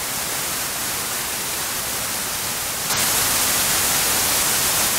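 Broadband hiss from a virtual noise generator in a no-input mixer patch plays steadily, then jumps noticeably brighter and louder about three seconds in, continuing without any voices.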